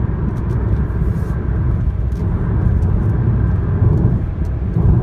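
A 2014 Chevrolet Malibu 2.0 LT diesel cruises at about 113 km/h, producing a constant low engine drone blended with road and wind rumble inside the cabin. The sound stays smooth and even for the whole stretch.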